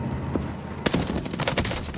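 Gunfire in a shooter video game: a handful of sharp shots cluster in the second half after a quieter start, heard alone with no talk.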